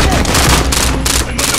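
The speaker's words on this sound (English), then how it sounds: "I'm under fire." Rapid automatic gunfire in a Call of Duty Warzone match, a dense, loud burst of shots filling the whole moment with no break.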